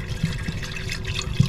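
Water pouring into an electric water heater in a hotel room to boil for coffee, a steady close trickle and splash with a few small gurgles, no talking.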